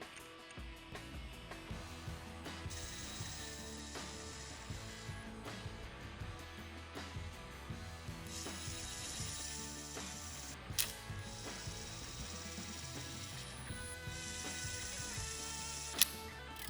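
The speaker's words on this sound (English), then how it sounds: "Tighten and torque to the recommended specifications." A ratchet wrench tightening cap screws on a Wedgequip C6 quick coupler wedge mount, rapid clicking pawl ratchets in repeated bursts, close and fairly quiet with no talking.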